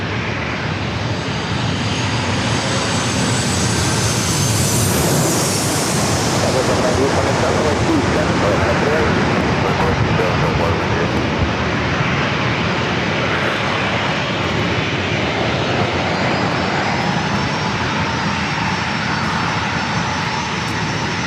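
An airliner on short final into San Diego airport roars overhead, a loud, broad jet rumble with a whining tone that sweeps past before settling into a sustained rushing drone.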